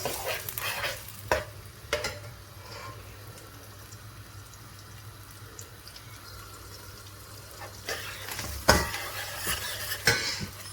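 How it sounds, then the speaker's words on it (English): Chopped onions frying in cooking oil for a chicken liver curry give a soft, steady sizzle, broken by a few louder stirring scrapes and clatters at the start and toward the end. "So we've cut the onions into the oil."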